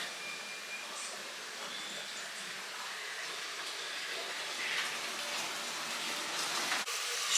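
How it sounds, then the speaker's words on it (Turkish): Potatoes fry in a pan in a home kitchen, giving a steady, fairly quiet hiss and sizzle like light rain that holds evenly throughout, with no talking. "Şöyle patates kızartıyorum."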